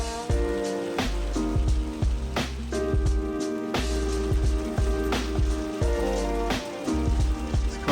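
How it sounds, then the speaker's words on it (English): Heavy rain and hail pelt a campsite in the Rockies, with close, irregular hard spatters and drips landing on a surface over a continuous wet roar, and no voices. "I'm just recording the rain."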